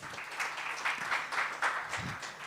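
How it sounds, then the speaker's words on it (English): Brief, fairly quiet applause from a workshop audience, a scatter of claps ringing on for a couple of seconds with no voices over it. "Give them a round of applause."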